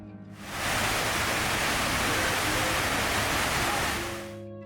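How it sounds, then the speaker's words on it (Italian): Waterfalls pouring into the 9/11 memorial pools in New York make a loud, steady broadband rush that swells in after a quieter start and holds evenly, with faint low hum beneath. "Il suono delle cascate ci isola da tutto il resto"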